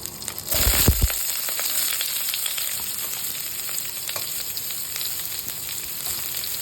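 Chopped onions drop into hot oil already crackling with mustard seeds, fennel and curry leaves, setting off a sudden loud sizzle that settles into a steady close frying hiss, with no voices.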